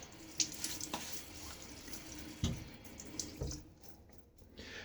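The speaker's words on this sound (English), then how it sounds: "Throw some water on my face again." A tap runs steadily into a sink as water is splashed onto a face during a wet shave, with several distinct splashes and drips over the quiet flow.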